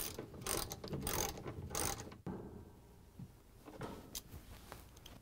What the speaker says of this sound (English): we're gonna use the 3/8 inch socket with the ratchet and the extension